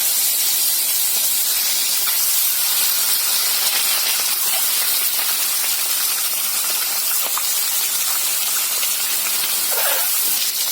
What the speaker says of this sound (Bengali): তেলটা গরম হয়ে গেছে, এখন আমি ডিমগুলো ছেড়ে দেবো।